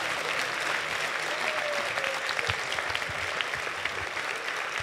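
A church congregation breaks into sustained, dense applause that fills the room evenly for the whole stretch, with no voices standing out.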